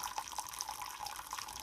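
Hot water pours for oatmeal in a faint, steady trickle with light splashing and bubbling, heard alone and from close by for a brief moment.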